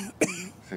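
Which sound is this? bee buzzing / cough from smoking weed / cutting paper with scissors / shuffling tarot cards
cough from smoking weed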